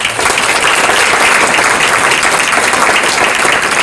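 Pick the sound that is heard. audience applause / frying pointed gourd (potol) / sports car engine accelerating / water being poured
audience applause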